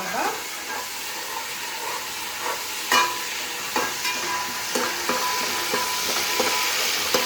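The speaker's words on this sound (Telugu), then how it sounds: "అలాగే కరివేపాకు పుదీనా ఆయిల్లో వేపుకుంటే పుదీనా మంచి ఫ్లేవర్ వచ్చింది" Curry leaves and fresh mint frying in hot oil in a home kitchen, a steady close sizzle with occasional stirring scrapes and clinks throughout, no talking.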